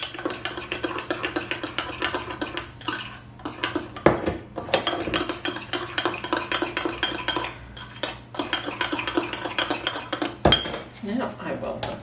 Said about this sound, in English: And we'll mix this until we have a paste